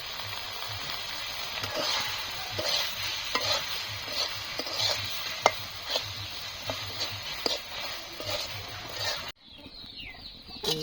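Red amaranth greens being stirred and cooked down in a pan, a steady close sizzle broken by scraping spatula strokes, ending in a sudden drop to quiet near the end.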